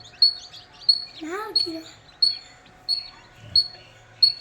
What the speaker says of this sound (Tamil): ஒரிஜினல் சிறுவடை குஞ்சு இது எல்லாமே